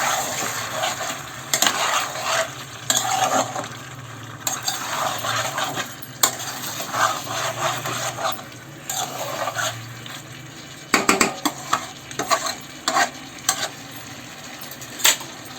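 Chicken kasha stir-fried in a pan where the meat has released its oil, with repeated scraping strokes of a spatula over a low steady sizzle and occasional metallic clinks, close and fairly loud.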